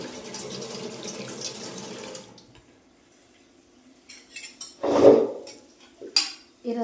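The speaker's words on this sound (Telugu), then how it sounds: "ఆ తర్వాత మళ్ళీ చల్లటి నీళ్ళతో కడిగేస్తానండి" Dishes are rinsed under cold running tap water in a home kitchen sink: a steady stream splashes for a couple of seconds, then quiet, followed by clinks of dishes and short bursts of water nearby.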